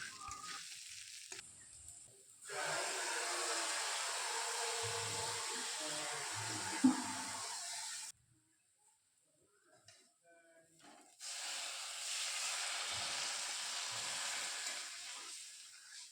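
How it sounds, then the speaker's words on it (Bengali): Marinated rice frying in hot oil in a pan while being stirred, a steady close sizzle that drops out into near silence twice and then resumes, with faint scraping of the spoon. "এখন ভালোভাবে নাড়াচাড়া করতে থাকবো, আর চালটা হালকা লালচে লালচে করে ভেজে নেব"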